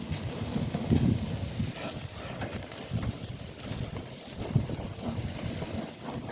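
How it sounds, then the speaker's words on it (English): Steady wind blows outdoors beside a grill during picanha prep, a broad hissing rush with low gusts swelling and easing, moderately loud and continuous with no talk. "Wow, that wind's picking up."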